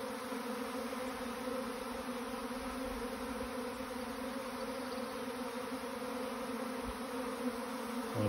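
A swarm of bees surrounds the listener, giving a dense, continuous, steady buzz that fills the air, close and even in loudness, with no talking.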